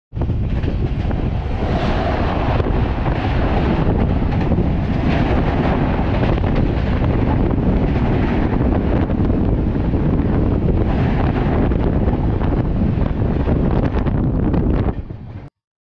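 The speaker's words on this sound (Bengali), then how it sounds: "তো আমাদের ট্রেনটা এখন পার হচ্ছে গঙ্গা নদীর উপরে যে ব্রিজ রয়েছে মালব্য সেতু" Amritsar Mail express train crossing the double-decker Malviya Bridge over the Ganges near Varanasi; a loud continuous rumbling roar with heavy wind buffeting the microphone, steady throughout before cutting off abruptly.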